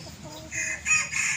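A rooster of the Yiya breed line crows close by in one brief, strained call that rises and holds, with faint background murmur beneath it.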